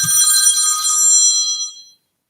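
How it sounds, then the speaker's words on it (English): A telephone rings with a bright, trilling electronic bell for under two seconds, loud and close, then stops into silence. "Hey, Mike, they're trying to call you"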